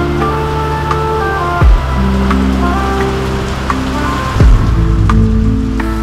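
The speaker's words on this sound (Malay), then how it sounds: "Tapi hujan dah pula, lebat pula tu." Heavy rain pouring down in Ipoh, Malaysia with a constant hiss, mixed with a low rumbling engine hum and two brief deeper thumps.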